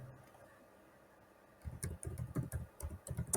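Keys clatter on a computer keyboard as someone types into an Excel spreadsheet. Near silence gives way to a steady run of close, crisp keystrokes.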